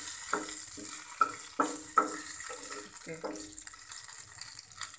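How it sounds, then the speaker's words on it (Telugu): Ingredients for a water amaranth chutney frying in a pan, stirred with repeated sharp scrapes and knocks over a steady sizzle, fairly close; a faint voice comes through in the background. "మనకి స్మెల్ వచ్చేంత వరకు ఇలా వేయించాలండి"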